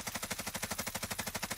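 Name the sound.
gunfire in a Call of Duty video game match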